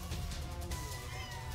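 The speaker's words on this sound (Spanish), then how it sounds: "ya ahora me vienen los gatos a marear" Cats meow indoors over the steady background sound of a Dragon Ball Xenoverse 2 gaming session, with one drawn-out, wavering meow close by and fairly clear above a constant low hum.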